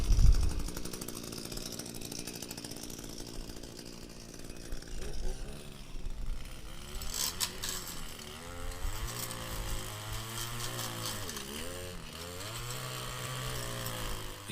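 An Echo PAS edger attachment cuts along a driveway edge at full throttle, a buzzing two-stroke whine that surges and dips in pitch as the blade works, moderately distant and steady.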